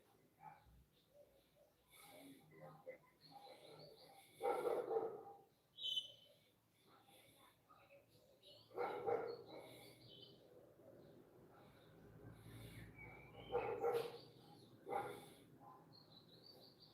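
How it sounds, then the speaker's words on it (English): A mother dog barks at another dog. Faint bursts of barking come from a distance at a few scattered moments, with birds chirping between them over a quiet background. "the mommy dog lecturing some other dog"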